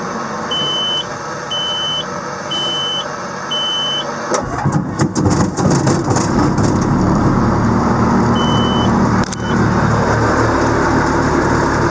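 A Tigercat LX830D tree harvester's engine is cranked and catches at about four seconds, then settles into a steady loud running roar. Short electronic warning beeps repeat in a steady rhythm before the start, and a few heavy knocks come while it runs.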